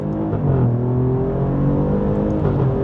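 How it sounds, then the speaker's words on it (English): An Alfa Romeo Giulia Quadrifoglio accelerates hard in second gear, heard from inside as a loud, rising engine note that climbs steadily with a brief lift near the end, and no voices. "You put your foot down in second gear"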